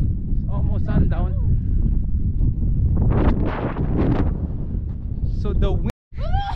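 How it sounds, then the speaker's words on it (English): Gusty wind buffets the microphone outdoors at Hanksville, Utah near sundown, a loud rumbling roar that persists throughout while people talk over it. "So the wind."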